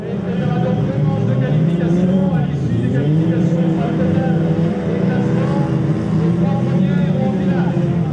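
Stock cars race around the Princé stock-car track, a dense overlapping drone of engines with shifting whining pitches that stays loud and continuous, with a voice talking over it.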